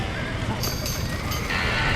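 Horses whinny in Red Dead Redemption on PS3, high neighs rising over a dense, rumbling background of clattering hooves and commotion.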